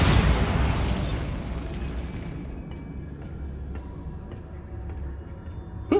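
A Bombarda blasting spell explodes in the Hogwarts Legacy video game with a loud, close burst that fades into a long rumbling tail, followed by scattered game clatter and a sharp pop at the very end.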